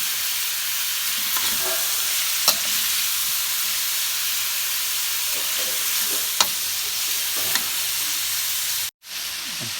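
Pork belly and garlic stir-frying in a pan for a bamboo shoot dish, a steady loud sizzle with occasional scraping clicks of the spatula.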